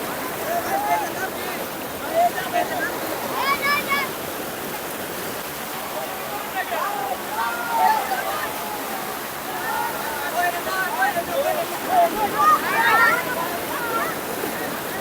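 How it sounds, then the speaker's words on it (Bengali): Strong water rushes and roars continuously at the Sakhipur waterfall, a dense, steady wash of sound heard close by, with people talking over it. "খুবই স্রোত এই জায়গায়, ভয় হচ্ছে"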